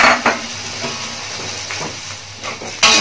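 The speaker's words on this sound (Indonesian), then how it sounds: "Kemudian kita aduk." Crab and green mussels in Padang sauce being stirred in a pan, with a soft steady sizzle and hiss, faint scraping of a utensil against the pan, and a louder burst near the end.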